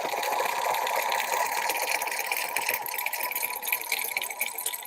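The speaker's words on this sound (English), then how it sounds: "So I did a little back stitch." A sewing machine back stitching through Kraft-Tex, its motor running in a continuous, fast, rattling whir that stays loud and steady throughout.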